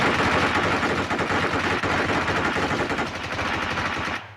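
Rapid sustained automatic gunfire from PUBG Mobile, a dense continuous burst of shots lasting several seconds, loud and close, then cutting off abruptly at the end, with no voices.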